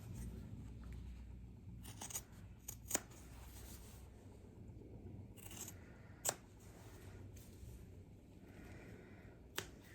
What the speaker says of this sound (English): Then I just cut them out with my scissors.